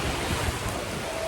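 Sea waves washing onto a beach on a sunny day, a steady rushing surf with wind noise in a brief stretch.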